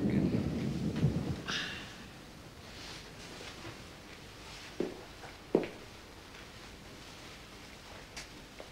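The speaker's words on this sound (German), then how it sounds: "Schade, dass es regnet." Distant thunder rumbles low at the start over a steady rain hiss, with a couple of soft thuds later; faint and ambient throughout.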